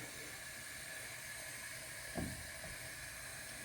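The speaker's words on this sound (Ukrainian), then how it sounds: "І зараз поставлю сюди гумілки обсмажувати." Food fries in hot oil in a deep frying pan, a steady close sizzling hiss with a brief louder crackle as something is placed in, no talking heard.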